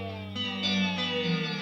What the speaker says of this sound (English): We obtain a phasing.